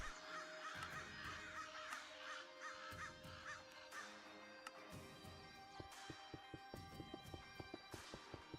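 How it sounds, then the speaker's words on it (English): Crow-like cawing from a bird in modded Minecraft, several harsh calls repeating over a background of clopping, hoof-like steps that grow more distinct toward the end. "Bird."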